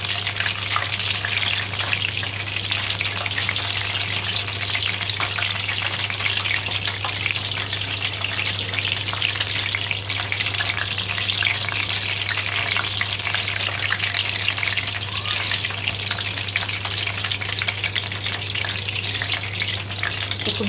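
Shrimp fritters fry in hot oil in a compact countertop cooker. The oil keeps up a steady, dense sizzle and crackle for the whole stretch, with a constant low electrical hum underneath and no speech.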